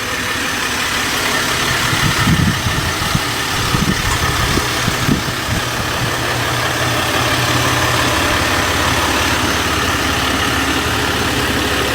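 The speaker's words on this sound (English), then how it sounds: "You can tell that it's a diesel" A Ram EcoDiesel truck's diesel engine idles at close range, a steady low rumble with an even mechanical drone and slight clatter, unbroken for the whole stretch.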